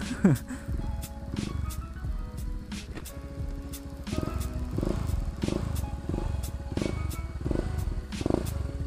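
A Honda Beat scooter engine with a damaged piston and scratched cylinder liner runs steadily at idle with a rhythmic, pulsing low rumble, while a person talks over it.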